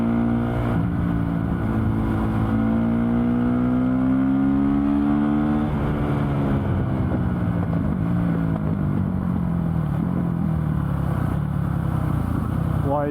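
Honda CRF450 supermoto motorcycle riding on the road, loud engine revving up and down through gears with rising and falling pitch, heavy wind noise over the whole ride.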